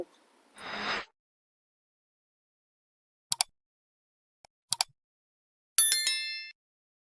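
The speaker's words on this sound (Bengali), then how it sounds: "প্রথমে দিচ্ছি সবুজ কালার একটা চামচ দিয়ে ভালো করে মিশিয়ে নেব" A spoon stirs green food colour in a small bowl, giving a brief scraping swirl, then a few sharp clinks of metal on the bowl and a final ringing tap, with silence between.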